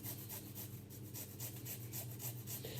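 Fresh ginger rubbed against a kitchen grater, a faint, steady rasping scrape repeating in quick strokes with no talking.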